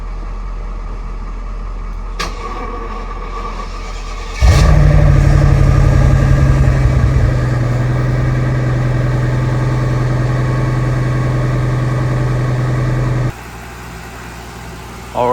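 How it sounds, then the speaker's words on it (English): A Mercedes Brabus, its battery dead and just jump-started, cranks and catches, then settles into a loud, steady idle that runs for several seconds before cutting out near the end. "Alright, so the car is running because it was dead"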